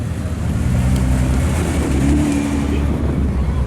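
A Lamborghini Gallardo rolling in to park at a large car meet, a loud, close, steady low engine rumble holding for several seconds.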